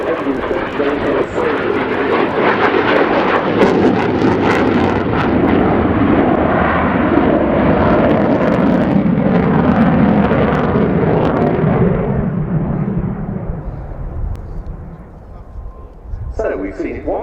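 A Ukrainian Air Force Su-27 fighter jet's engines roar loud and continuous for many seconds during a flying display at RIAT, slowly fading as it passes, with crowd voices faintly underneath.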